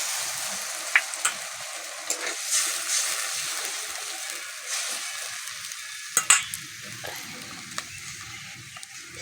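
Eggplant frying in a pan as a little water goes in, a steady close sizzle and bubbling with brief splashy bursts and spoon scrapes, no voices.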